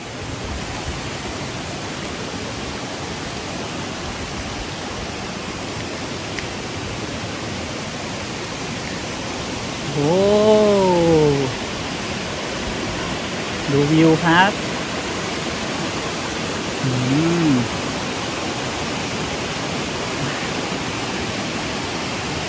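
A two-tier waterfall in an ancient fern forest pours as a constant loud hiss of falling water, with a few short voiced sounds cutting briefly over the roar.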